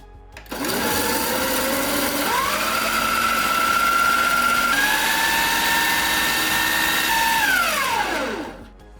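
A blender pureeing frozen fruit for a dairy-free Dole Whip, a loud, close motor whine that winds up, climbs in pitch as it runs steadily, then spins down to a stop.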